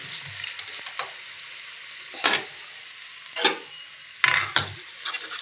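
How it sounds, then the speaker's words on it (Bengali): Very hot oil sizzles in a pan while frying ground lentil fritters, with several loud bursts of crackling spitting between quieter stretches of steady frying, close by with no talk. "নয়তো এই যে পুড়ে যাবে। দিয়ে একটু নিচে নামিয়ে নিলাম, তেলটা এত গরম হয়ে গেছে"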